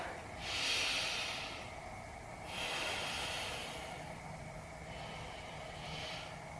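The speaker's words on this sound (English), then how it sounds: "Deep breath in and out." Slow, deep breaths in and out during a beginner yoga session, each inhale and exhale a soft airy hiss that swells and fades in a steady rhythm, close and fairly quiet.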